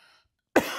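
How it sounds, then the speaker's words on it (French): A single sharp, close cough from a woman bursts out after a brief silence, with a rough breathy tail. "je vais tousser."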